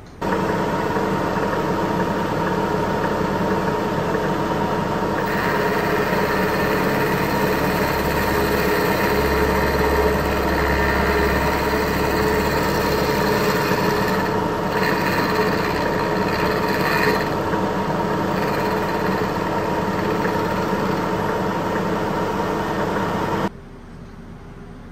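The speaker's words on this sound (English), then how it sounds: "we're gonna head over to the milling machine over there and trim them up" A milling machine trims small parts with a steady, continuous mechanical hum and grinding whine, fairly loud and constant for most of the stretch before cutting off abruptly near the end, with no talking.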